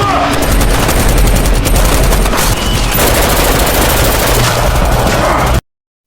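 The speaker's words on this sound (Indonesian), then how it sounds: "Max berhasil melepaskan tembakan kepada Ray sehingga ia pun modar" Dense, loud gunfire from a shootout in the 2024 action film Lights Out: rapid overlapping shots and bursts fill about five and a half seconds before cutting off abruptly.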